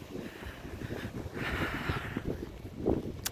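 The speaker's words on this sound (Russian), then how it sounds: "Ветрище поднялся." Strong outdoor wind on a spring walk near the coast at Kastropol in Crimea, a steady broad rush buffeting the microphone loudly throughout, with gusts swelling in the middle and a brief thump near the end.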